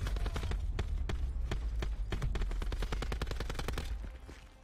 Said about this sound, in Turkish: Bir tane silah vardı, çok seri atıyordu ya.